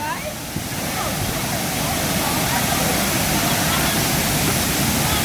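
Waterfall and river at Reggae Falls, St Thomas, Jamaica, a loud, steady broadband rush of falling and flowing water that fills the whole stretch without pause.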